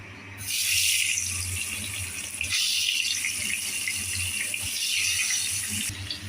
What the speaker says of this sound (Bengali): তেলটা আমার গরম হয়ে এসছে, এখন পটলগুলো আমি একটা একটা করে ছেড়ে দিচ্ছি